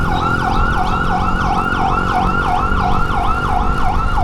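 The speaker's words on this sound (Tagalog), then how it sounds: "Daanan natin itong ambulansya." An ambulance siren wails in a fast, repeating up-and-down pattern, loud and close, over the low rumble of road traffic, heard from a motorcycle passing it.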